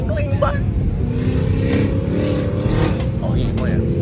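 A truck or car drives past in traffic, its engine swelling and fading over a steady road rumble, with people talking over it.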